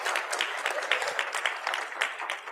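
A small crowd at a temple annual meeting breaks into a brief, moderately loud burst of applause with uneven, scattered claps and no speech over it.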